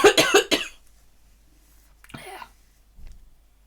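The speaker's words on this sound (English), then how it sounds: "Sorry about the coughing." A quick burst of three or four harsh coughs up close, followed after a pause by a softer throat-clearing rasp and a faint low grunt.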